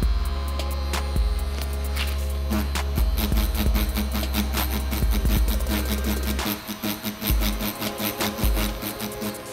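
A budget tattoo machine from an online kit running at 9 volts, a close, steady mechanical buzz with a low electric hum that continues throughout, turning choppier and more pulsing near the end, with no talking.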